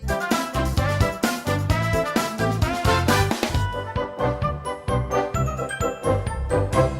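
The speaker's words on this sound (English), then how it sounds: "what I like to call the child-friendly film spin-off game music" Bright, bouncy video game music from the Shrek: Treasure Hunt game, with a steady beat, chiming melody and synth backing, plays continuously, cheerful and busy, with no voice.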